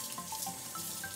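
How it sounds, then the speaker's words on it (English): Water runs steadily from a home sink tap as hands are rinsed, a continuous hissing splash at moderate level with no talk. "Now I'm going to rinse my hands."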